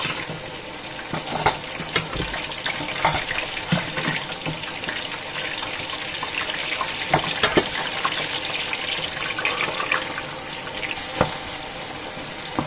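Water bubbles and simmers down in a cooking pot on the stove, a steady close hiss and gentle bubbling with occasional louder pops and spits throughout, no one speaking.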